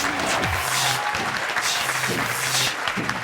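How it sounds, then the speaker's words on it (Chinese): Studio audience applause at a Taiwanese comedy sketch show, a dense burst of clapping with a few short spoken or musical fragments cutting through it. "掌声欢迎"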